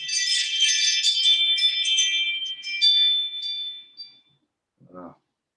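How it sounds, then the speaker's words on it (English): A doorbell chimes in a series of bright, ringing tones for about four seconds, fairly loud, then fades out; a brief voice follows at the end. "That's the doorbell, but there's nobody at the door."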